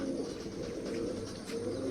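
Soft, low cooing from pigeons repeats continuously, fairly close, with a faint steady background hiss.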